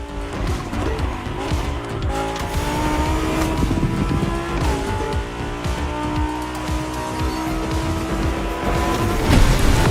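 Lamborghini racing in The Crew Motorfest on a mountain road, its engine holding a steady loud drone throughout with tire squeal and skidding mixed in, no talk.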